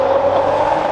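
A Bugatti Roadster supercar engine drones loudly and steadily at close range for a brief moment, with no talking.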